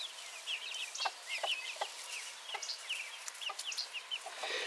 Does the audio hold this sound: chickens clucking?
yes